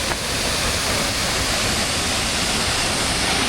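A waterfall beside the Pier Hotel on the West Highland Way in Scotland roars with a dense, steady rushing hiss, continuous and loud throughout.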